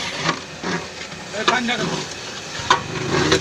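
Masala dal fry with toor dal is stirred in a hot pan, giving a steady close sizzle with scraping stir strokes, while people talk nearby.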